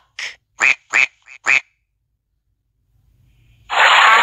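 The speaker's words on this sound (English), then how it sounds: "Duck." Duck quacking in a children's English lesson: four or five short, nasal quacks in quick succession, close and clear, followed by a pause and then a longer, louder burst of sound.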